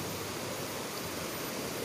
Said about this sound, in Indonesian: ini sungai yang pertama yang tadi yang saya bilang airnya tidak terlalu deras